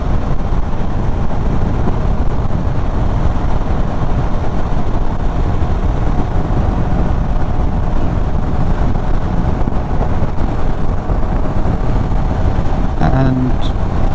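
A 2017–2018 Suzuki V-Strom 650 XT cruises at speed on the road, its engine hum buried in a constant, loud roar of wind buffeting that barely changes.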